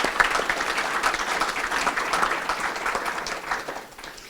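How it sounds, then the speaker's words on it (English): A crowd gives honorees a warm round of applause, dense overlapping claps holding steady for a few seconds before starting to fade out toward the end. "Let's give a tremendous round of applause for all of those honorees."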